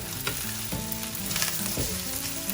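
Chicken rice paste fried rice tossed in a hot wok over high flame, sizzling loudly and steadily, with scraping stir-fry tosses and no talking.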